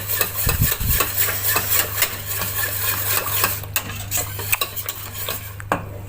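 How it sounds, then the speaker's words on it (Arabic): A spoon scrapes and stirs a cold starch mixture steadily around a pot with a rhythmic swishing, over a constant low hum. "هقلبه الاول على البارد قبل ما احطه على النار. اقلب النشا كويس"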